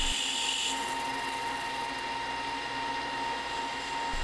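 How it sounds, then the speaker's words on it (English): A manual metal lathe runs as it turns a simple handle, giving a steady, close mechanical whine and hum with a faint high tone throughout and no speech. "I jumped over to the manual lathe and turned a simple handle"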